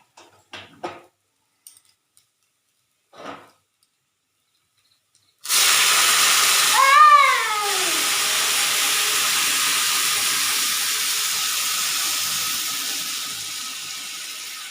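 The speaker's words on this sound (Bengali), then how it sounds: "এবারে আমি জলটা দিয়ে" Water poured into a hot pan while cooking khichuri bursts into a loud, sustained steam hiss that slowly fades, preceded by a few brief clinks and a short sizzling pop.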